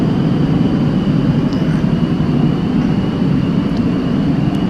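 The Aerosoft F-16 Falcon jet in the Flight Simulator X game roars with a steady, dense engine rumble and hiss in flight, constant and unbroken, with no talking.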